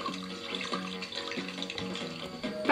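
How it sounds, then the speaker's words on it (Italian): Watering can pouring water in the Toca Life treehouse video game, a steady watery trickle with game music running underneath, no talking. "Perde un po' d'acqua sta annaffiatoio"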